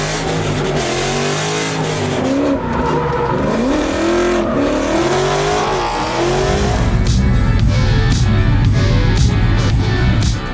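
A Ford Mustang Dark Horse drifts hard, its engine revving up and down loudly and close, rising and falling pitch sweeps giving way to sustained high revs with screeching tires.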